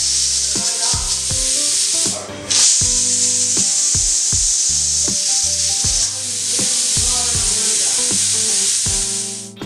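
Pressure cooker cooking mutton for a spicy South Indian pepper dry gives a steady, loud steam hiss throughout, dipping briefly once, over rhythmic background music.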